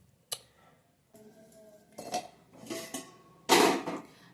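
Metal utensils clatter and clink against a bowl while milk is strained, several sharp knocks and scraping rattles separated by short quiet gaps, the loudest burst near the end, no talk.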